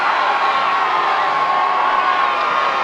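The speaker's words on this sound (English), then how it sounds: "Everyone's cheering," Crowd cheering after the Quidditch Cup in a Harry Potter video game on PS2, a dense, steady roar of many voices with whoops, loud and continuous throughout.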